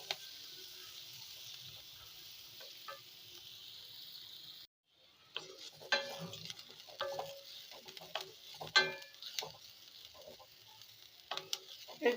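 Mixed vegetables and chopped onion fry in a pan, a soft, quiet sizzle with scattered stirring clicks and scrapes that grow busier partway through.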